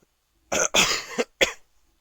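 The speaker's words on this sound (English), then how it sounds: "The second cough, I apologize about that." A few sharp coughs in quick succession, close to the microphone, separated by short silences.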